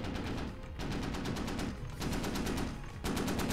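Rapid automatic gunfire crackles in long sustained bursts in the Squad military shooter game, with short pauses between strings of evenly spaced shots, loud and alone without talk.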